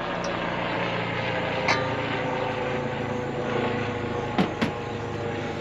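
Aircraft passing overhead during outdoor cooking, a steady broad engine drone that stays moderately loud throughout, with a few faint clicks and knocks nearby.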